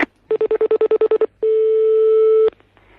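A telephone number being dialed: about ten quick, even keypad tones in a rapid row, followed by a long steady line tone that cuts off, with no talk.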